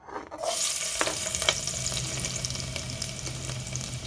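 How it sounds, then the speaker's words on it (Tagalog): Garlic sautéing in a pan for Filipino pork afritada, starting with a sudden burst of sizzling that settles into a lively, continuous fry with occasional clinks of stirring, close and fairly loud. "magsutay po tayo ng bawang"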